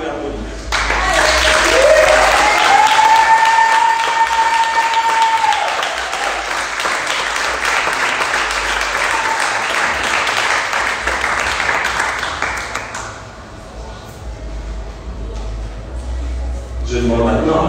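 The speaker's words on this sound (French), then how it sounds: "Là, vous pouvez applaudir." An audience at a sports team presentation applauds in a dense, loud, sustained wash of clapping that fades after about thirteen seconds, with a tonal sound near the start and music layered beneath.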